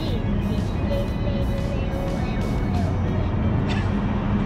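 Chevrolet Corvette Convertible on the road, heard from inside as a constant loud rumble of engine and road noise, with a child and an adult talking intermittently over it.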